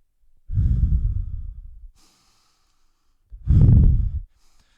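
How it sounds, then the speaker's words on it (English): Two heavy, deep breaths forced through the nose during a kettlebell complex workout, each lasting about a second, close and loud with a pause between them and no talk. "It gets more and more challenging to keep the breathing through the nose as you hit each round."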